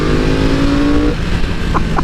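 Yamaha R1 motorcycle accelerating, a loud close engine note climbing in pitch for about a second, then dropping into a rougher, lower drone with brief chirps near the end.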